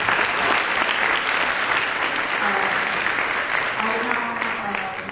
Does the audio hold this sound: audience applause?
yes